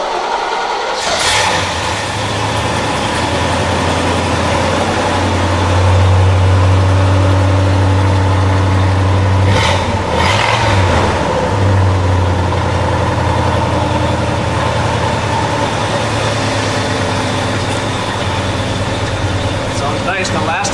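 A 1965 Pontiac GTO engine idles with a deep, lumpy rumble, then revs up a couple of times before settling back, loud and close.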